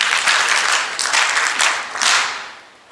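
An indoor audience at the LGMSD launch at a hotel claps for the Prime Minister, a loud burst of many hands that surges in waves and then tapers away.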